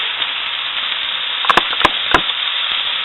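Thin steak seasoned with black pepper fries in a very hot pan with a steady, close sizzle, broken midway by a few sharp pops and crackles.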